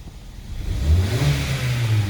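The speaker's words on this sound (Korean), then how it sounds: "시동 걸어볼게요" A car in a repair workshop, one that had a fault troubling its driver for months, cranks and catches, then its engine rises into a rev and holds a steady, close hum.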